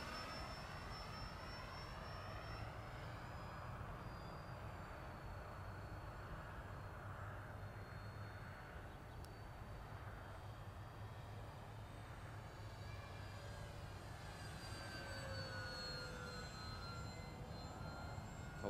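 E-flite EC-1500 twin-engine RC cargo airplane at full throttle, a faint, steady electric motor whine with a thin high tone holding for the whole stretch, heard from a distance with no talking.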